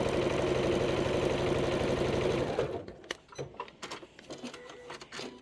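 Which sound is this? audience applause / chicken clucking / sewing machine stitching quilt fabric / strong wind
sewing machine stitching quilt fabric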